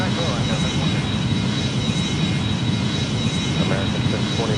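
Airbus A340 jet engines in the Airline Commander game, landing at Rome's FCO airport, give a continuous, fairly loud roar with a faint voice running underneath.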